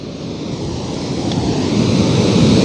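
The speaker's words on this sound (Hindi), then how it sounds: "पानी के प्रवाह की आवाज़ ही अलग रोमांच पैदा कर रही है" Water flowing over eroded rocks in a stream surrounded by dense forest, a loud steady rushing roar that builds slightly, close by and with no voices.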